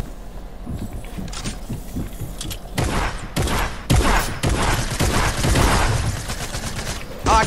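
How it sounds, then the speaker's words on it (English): Shotgun blasts and other gunfire in a video game shootout, irregular loud bangs that thicken into a dense, chaotic stretch, with voices talking over parts of it. "right when you shot at me, I shot you in the head for 28"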